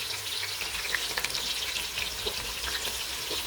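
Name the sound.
egusi soup frying in a pot over low heat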